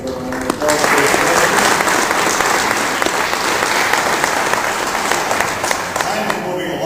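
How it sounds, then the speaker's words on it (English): A crowd at a Leominster councilor debate breaks into applause, loud continuous clapping from many hands that holds steady for several seconds and thins slightly at the close, with faint talk mixed in. "Give her a round of applause."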